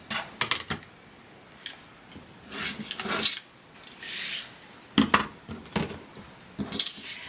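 Foundation paper being torn and trimmed away from a pieced heart, pinwheel or nine-patch quilt block, heard as a series of short, close rasping tears and scrapes in irregular bursts with quiet gaps between them and no talking.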